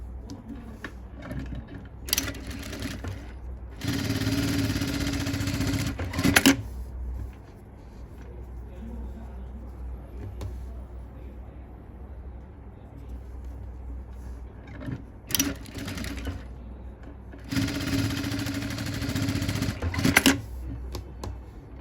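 A sewing machine stitches a blouse in two loud bursts of a few seconds each, with a quieter stretch of handling and fabric noise between them.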